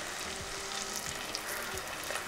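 Chopped garlic and onion sizzle in a pan as a beef and kappa curry gets underway, a steady close frying hiss with faint stirring.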